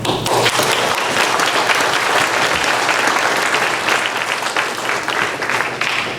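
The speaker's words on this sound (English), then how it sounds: "you really deserve a round of applause for how wonderful you do" An audience at a family court graduation ceremony claps loudly and continuously, a dense, sustained round of applause from a large crowd filling the room.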